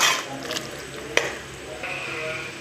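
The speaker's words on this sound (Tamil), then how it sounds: "முந்திரி போட்டு நல்லா கிளறி விட்டுக்கணும்." Cashews are stirred into a mushroom biryani masala in a pan, with a close spoon scrape, one sharp knock against the pot and a low sizzle underneath, and no talking.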